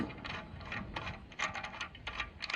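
A ratchet spinning lug nuts off a Toyota Tundra rear wheel: quick, close bursts of metallic clicking, irregular in rhythm, with short pauses between runs.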